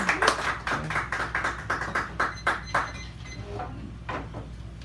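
Applause from a poetry-hour audience at a café fills the first few seconds with close, uneven clapping that tapers off and fades to a quiet room.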